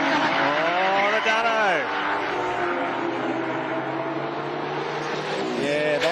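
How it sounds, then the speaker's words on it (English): Datsun 1600 race car launching hard off the line at a time attack event, engine screaming with rising and falling revs and tyres squealing, loud and continuous under a commentator's voice. "it knows how to leave the line, that Datsun"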